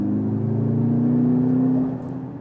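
A Mercedes SUV with electric boost accelerates hard into corners, its engine holding a steady, loud droning rev that climbs slightly in pitch before easing off near the end.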